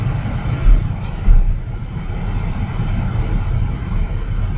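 A 2022 BMW X3 M Competition SUV out on the road, its steady engine and road rumble holding throughout, with a couple of brief louder bumps early on and no talking.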